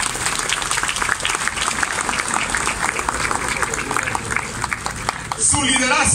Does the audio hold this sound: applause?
yes